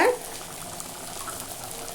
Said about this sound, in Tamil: நம்மளோட குழம்பு நல்லா கொதிக்குது.